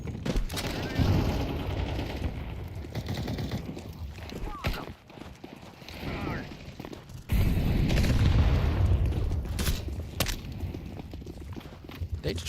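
Video game gunfire from AK and MP5 rifles, dense bursts and single shots with booms throughout, overlapping with a person talking.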